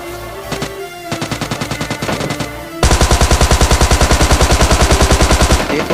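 Rapid automatic gunfire in a battle royale shooter, a fainter stuttering burst giving way to a loud, sustained run of evenly spaced shots up close.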